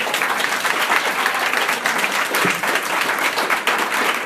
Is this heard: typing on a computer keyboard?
no